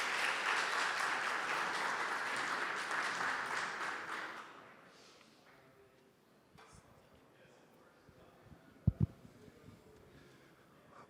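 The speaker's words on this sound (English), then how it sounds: "Round of applause, please." Conference audience clapping for panelists at a stablecoin fireside chat, dense applause for about four seconds that quickly fades out, leaving quiet room noise and a few knocks and thumps.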